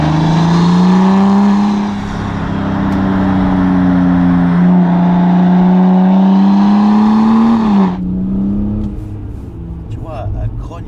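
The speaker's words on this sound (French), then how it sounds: "Tu vois, elle grogne la voiture." Alpina D5 Biturbo engine growling loudly as the car accelerates, a steady deep rumble that rises in pitch, then drops abruptly near the end as the throttle lifts; people talk over it.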